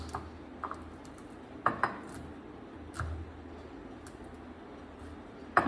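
A grinding stone crushes cashew nuts, giving scattered light knocks and scrapes of stone on stone. The taps come at irregular intervals, faint to moderate, with no talking.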